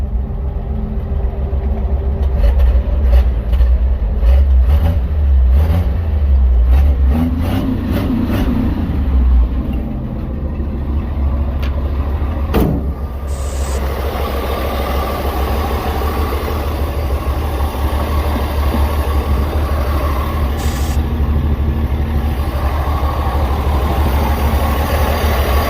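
A 1952 Chevrolet engine runs and settles into a steady, loud idle, its low rumble continuous for the whole stretch with a few brief clicks and knocks near the start and no voices.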